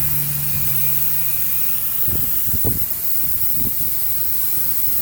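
Propane hisses steadily from an opened valve while a refillable 1 lb bottle is being filled, a constant airy rush with a few low knocks and bumps close by partway through.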